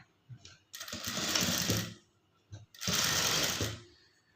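Sewing machine stitching a high-neck blouse: two loud, close runs of rapid whirring stitches separated by brief pauses, with small handling knocks between.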